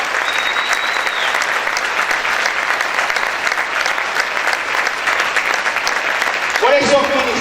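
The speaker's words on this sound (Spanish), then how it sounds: "Aplaude fuerte al Rey en esta hora." A church congregation gives loud, continuous applause with occasional shouts. Near the end the clapping thins and a voice breaks in.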